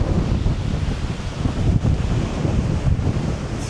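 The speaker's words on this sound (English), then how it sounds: "So we're at the seaside. It's very windy right now." Strong wind buffets the microphone in a constant low roar, with the wash of surf underneath and no voices.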